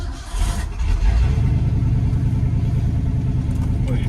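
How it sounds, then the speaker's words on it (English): A neglected Ford F250 pickup's engine catches and settles into a loud, steady low rumble close by, with some revving near the start. "So let's start it and see how much gas I got in it."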